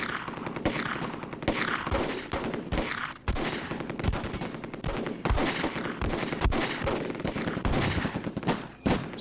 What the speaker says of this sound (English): What's going on with that MG, I wonder? They're still firing.